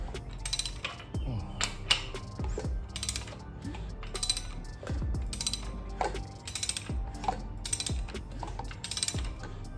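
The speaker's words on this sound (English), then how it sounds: "You hear the valves open and closing. Nothing rubbing." A GM LT4 V8 with a freshly installed Texas Speed camshaft and 660 valve springs idles, its valvetrain ticking in a fast, even mechanical clatter heard up close, with no voices.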